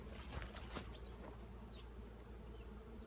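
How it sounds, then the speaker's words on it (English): Dense, steady buzzing of many bees close by as a swarm is hived, a continuous droning hum with no voices. "I got most of the bees like marching into the hive"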